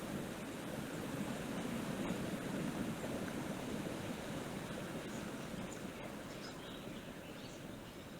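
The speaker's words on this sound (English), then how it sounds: "hearing the waterfall next to me is very immersive" A waterfall in the VR game Call of the Sea rushes as a steady, soft, broadband wash of falling water nearby, continuous with no voices.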